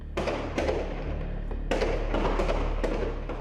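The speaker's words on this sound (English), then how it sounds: "The sound of gunfire accompanies calls for political freedom." Gunfire at street protests in Venezuela: a series of sharp cracks and thuds, several close together, ringing out over a loud, constant crowd-and-street din.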